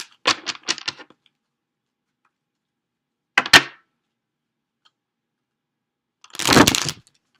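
Tarot cards are shuffled by hand in three short bursts: a quick flurry of riffling clicks, a brief snap a few seconds later, and a final rustling riffle, crisp and close in an otherwise quiet room.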